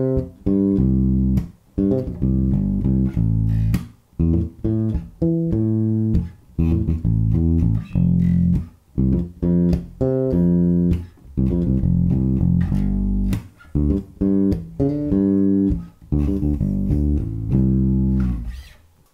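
A bass guitar plays a tough 16th-note lick in a James Jamerson style, built on roots and fifths and moving across the strings. The notes are loud, close and rhythmic, with brief gaps between phrases and no talking.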